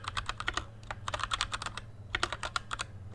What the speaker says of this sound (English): This is the dead noise where we're clicking and doing research on Tom.